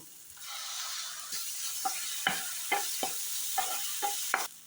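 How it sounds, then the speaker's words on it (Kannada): A masala of tomato, curry leaves and ginger garlic paste fries with a soft continuous sizzle, broken by a series of regular utensil scrapes and taps from stirring close by. "ಮಸಾಲ ಚೆನ್ನಾಗಿ ಫ್ರೈ ಆಗಿದೆ."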